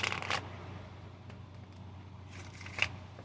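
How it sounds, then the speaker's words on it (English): Tarot and oracle cards are shuffled by hand in short, soft riffling bursts at the start and near the end, quiet against a low room hum, with no talking. "I'm just going to shuffle these until they feel good"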